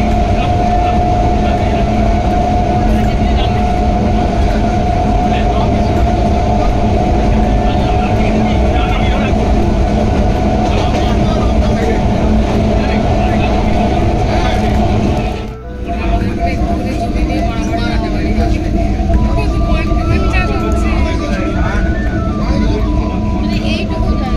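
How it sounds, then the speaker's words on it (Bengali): Train running along a railway line through green crop fields on the approach to Bahirganj station, heard as a steady, loud rolling rumble with a constant hum that dips briefly midway before carrying on. "আমাদের ট্রেন এই মুহূর্তে বাহিরগঞ্জ স্টেশনে প্রবেশ করলো"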